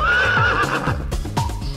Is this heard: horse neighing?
yes